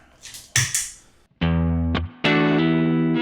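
Electric guitar through a compressor pedal on a clean sound: a few muted scratches, then sustained clean chords ring out evenly with a squeezed, level tone.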